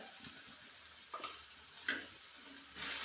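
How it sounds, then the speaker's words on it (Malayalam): Ground chilli, coriander, turmeric and garam masala powders are stirred and fried in a pan for a rice-side curry, giving a faint sizzle with a few louder scraping bursts of spoon on pan. "ഇതിൻ്റെ പച്ചമണമൊക്കെ ഒന്ന് പോയി കിട്ടാൻ വേണ്ടി നല്ലവണ്ണം ഇളക്കി കൊടുക്കാം"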